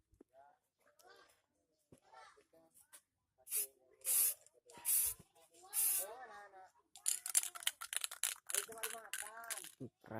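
Pylox spray paint can spraying a motorcycle part, several short hissing bursts in a row, followed by a denser run of quick sprays, with quiet talk between them.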